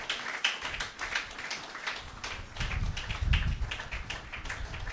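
An audience claps steadily at a business and real estate school gathering: a dense, continuous patter of many hands that swells somewhat louder in the second half, with no voices over it.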